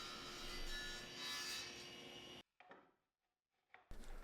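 A tilted saw blade bevels the bottom of wooden cabinet legs, giving a loud continuous rasping cut that stops abruptly, then short faint scrapes in near silence before the cutting noise resumes.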